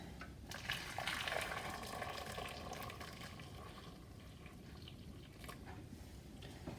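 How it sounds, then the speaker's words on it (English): Boiling water pours over cut tomatoes for peeling, a steady watery gush and splash running close and moderately loud throughout, with no talk. "pour boiling water on the tomatoes"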